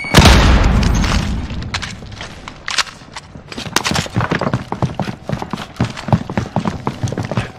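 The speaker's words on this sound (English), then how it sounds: "Throw a frag grenade." A frag grenade in a video game bursts in a loud boom at the start, followed by a scatter of sharp clattering impacts and footstep-like taps that continue to the end.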